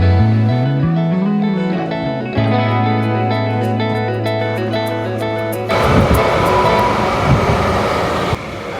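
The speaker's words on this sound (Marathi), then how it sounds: "पनवेल रेल्वे स्टेशनच्या प्लॅटफॉर्म नंबर 3 वरून ही पनवेल ठाणे लोकल ठाणेसाठी रवाना झाली" A Panvel–Thane local train on the Trans-Harbour line moves off from Panvel station, starting with rising and shifting electric motor tones that give way to loud, broadband rolling rumble and clatter of the carriages.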